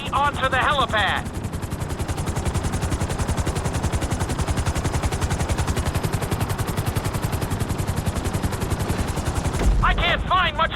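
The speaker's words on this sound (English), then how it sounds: "Bring the helicopter down gently onto the helipad." A helicopter in GTA 5 settles down onto a helipad, its rotor chopping in a fast, steady, loud pulse throughout, with brief voices at the start and end.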